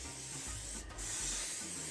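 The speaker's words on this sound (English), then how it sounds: "I'm going to spray it real quick with some butter spray." Butter spray hisses from a can into a bundt pan in two close, steady bursts separated by a brief gap, with no talking.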